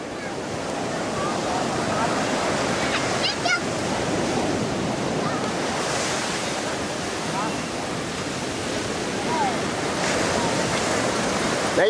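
Ocean waves surge and crash continuously with heavy, roaring wash, mixed with gusting wind noise.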